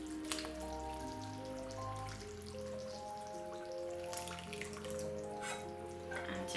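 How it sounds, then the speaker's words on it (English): A milk and butter mixture is poured into a mixing bowl for Halloween monster cakes, a soft continuous liquid splashing and trickling under steady background music. "I'm just pouring my milk and butter mix into my bowl here."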